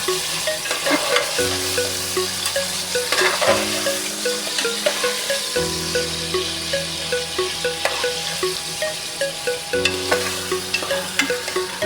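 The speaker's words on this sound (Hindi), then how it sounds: "अंदर ऑयल में चिकन ऐड करेंगे और उसको अच्छे से भूनेंगे।" Chicken frying in hot oil after browned onions are removed, stirred steadily with a spoon; a continuous loud sizzle runs throughout, with regular scraping strokes against the pan up close.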